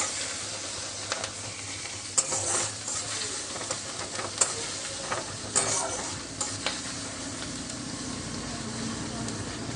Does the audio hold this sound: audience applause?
no